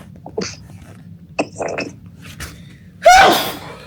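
A few soft sniffs and rustles, then one loud, abrupt sneeze near the end, close by.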